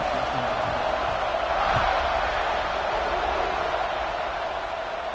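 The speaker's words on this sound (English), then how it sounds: "this crowd is buzzing after that last score" A large stadium crowd at a football game buzzes after a touchdown, a dense, steady roar of many voices that holds at a constant loud level throughout.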